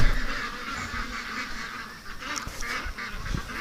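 Ducks at a lake honk and quack in a noisy cluster nearby, overlapping calls continuing throughout with no talking.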